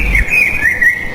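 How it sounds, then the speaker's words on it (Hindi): A crow calling in a Hindi cartoon, a single short, loud, wavering cry that carries on for about a second with no voices over it. "तभी कालू कौवा वहां पर आ गया।"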